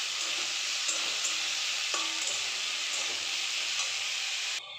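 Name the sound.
stirring onions and bitter gourd frying in a pan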